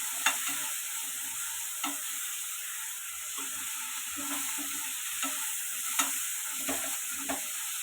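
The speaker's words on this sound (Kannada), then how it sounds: "ಕೊತ್ತಂಬರಿ ಸೊಪ್ಪು ಹಾಕಿ ಸ್ವಲ್ಪ ಮಿಕ್ಸ್ ಮಾಡ್ಕೊಳ್ಳೋಣ." Chicken frying in a pan for biryani is stirred with coriander leaves. A steady sizzle runs throughout, and light scraping strokes and clinks of the spoon against the pan repeat at irregular intervals. Nobody talks.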